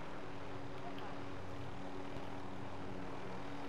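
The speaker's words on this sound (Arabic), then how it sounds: "اذا تبون ثلاث هليكوبترات" A helicopter in the Call of Duty Modern Warfare video game drones steadily with a low, even rotor and engine hum that holds throughout the short stretch without letting up.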